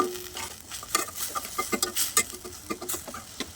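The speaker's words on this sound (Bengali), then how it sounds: "গুঁড়া মশলাকে একসাথে কষিয়ে নিচ্ছি" Ground chili, turmeric and coriander being sautéed together in a pan, with a soft sizzle under busy scraping and tapping of the spoon in quick uneven strokes, and no one talking.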